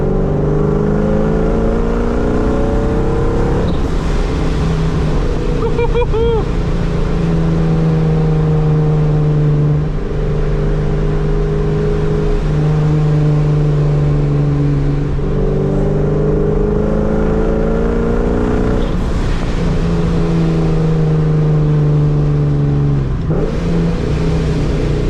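A Ford NewEdge Mustang engine drones and revs in repeated rising and falling pulls, loud and close, with a sputtering note from a faulty charge pipe under the steady engine roar.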